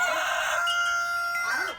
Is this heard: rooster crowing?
yes